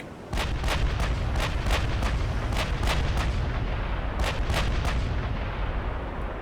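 Naval guns in Ultimate Admiral: Dreadnoughts, the Nagato's 16-inch batteries against the Strasbourg, firing in a rapid rolling string of heavy booms, about a dozen shots close together over a continuous low rumble.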